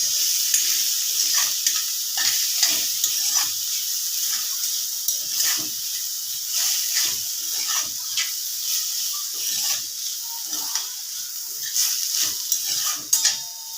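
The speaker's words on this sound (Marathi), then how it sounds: "भिजू घातलेली कुरडई त्याच्यात ॲड करायची आहे। दोन ते 3 मिनिटे छान परतून घ्यायची आपल्याला।" Soaked kurdai stirred and sautéed in a hot pan, giving a steady close-up sizzle and hiss with frequent scraping stir strokes throughout, no voices.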